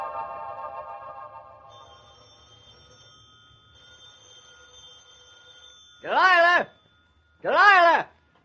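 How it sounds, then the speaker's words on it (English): A telephone rings twice in two loud, warbling bursts, following a stretch of quieter music. "That blasted phone's ringing again."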